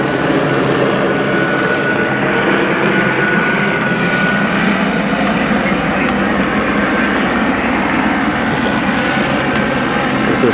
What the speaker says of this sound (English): now we got 2 double choppers